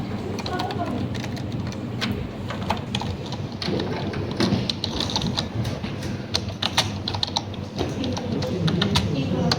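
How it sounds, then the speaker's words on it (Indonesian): Rapid clicking of computer keyboard typing while a document is written in Notepad, steady and continuous throughout, with a voice talking over it. "Dan kita sedang mengetik sebuah dokumen"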